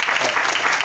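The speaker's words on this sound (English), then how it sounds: "Give them, please, a round of applause" A brief burst of steady audience clapping for panel members at the close of a panel discussion, dense and even throughout the short moment.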